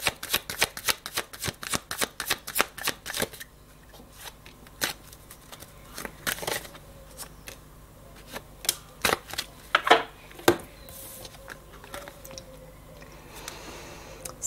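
Tarot cards being shuffled by hand, a quick run of crisp riffling flicks at first, then slower scattered snaps and slides of the deck, close and clear with no talking.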